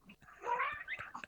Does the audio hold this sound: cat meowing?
yes